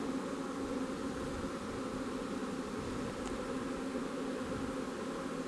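A large swarm of honeybees fans at a swarm box in a steady, dense buzzing drone that holds even and loud throughout, with no voices.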